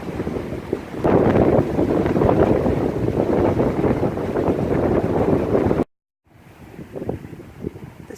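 Strong wind on a beach roars and buffets the microphone in a loud, continuous rush, cuts off abruptly, then returns as lighter, gustier blowing.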